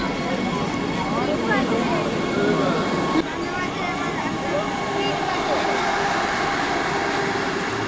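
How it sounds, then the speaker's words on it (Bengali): Vande Bharat Express pulling out of Puruliya station, a steady broadband rumble and rail hiss with faint wheel squeal, heard from the platform at close range with people talking throughout. "এই যে এখানে ট্রেন ছেড়ে দিয়েছে"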